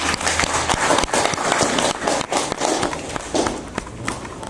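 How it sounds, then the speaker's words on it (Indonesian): Dense, sustained applause from a class of students in a teacher-training history lesson, many sharp claps crowding together loud and near, with a few scattered voices mixed in. "Tepuk tangan buat kelompok 4."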